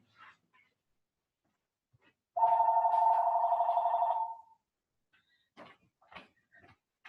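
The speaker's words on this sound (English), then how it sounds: "sorry, I thought I muted my phone" A mobile phone rings with one sustained electronic tone of about two seconds, loud and close. Faint clicks and rustles follow in an otherwise quiet room.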